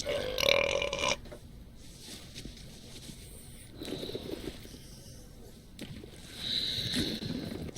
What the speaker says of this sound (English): Hey, how about a burping contest?